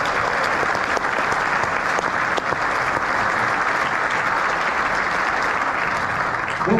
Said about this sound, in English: Round of applause for Cottee.